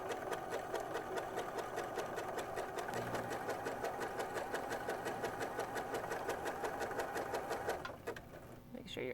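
A sewing machine stitches sweater knit fabric for a cocoon cardigan in a fast, even run of needle strokes, close and steady. The stitching cuts off briefly near the end.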